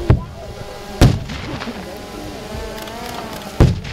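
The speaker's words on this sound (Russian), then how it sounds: "Орудийные залпы и взрывы гранат, пулеметные очереди из автоматов" Artillery volleys and grenade blasts at a battle reenactment on Mamayev Kurgan in Volgograd, with three sharp, loud booms spaced about a second and two and a half seconds apart over a low rumbling background.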